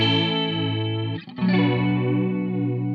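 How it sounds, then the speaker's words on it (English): A sustained, harmonically rich synth tone runs through the Safari Pedals Fox Echo chorus plugin, shimmering and slightly distorted, with a brief dip and shift near the middle before the tone resumes, with no voices. "Let's go into the chorus here"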